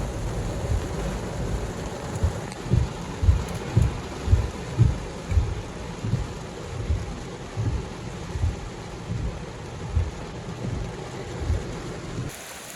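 A thunderstorm with steady rain falling and repeated low rumbles of thunder rolling through, heavier in the middle stretch, with no voices over it.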